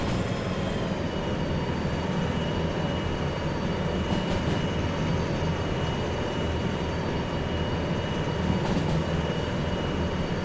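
A heavy locomotive in the Derail Valley train simulator rumbles steadily under load, a dense low drone with a faint high whine, with two brief clanks around the middle and near the end.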